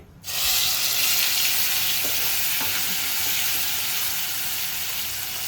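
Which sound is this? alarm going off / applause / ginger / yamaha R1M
ginger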